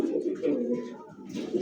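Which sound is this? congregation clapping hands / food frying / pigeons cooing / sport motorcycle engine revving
pigeons cooing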